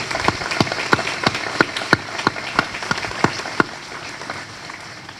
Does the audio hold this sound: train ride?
no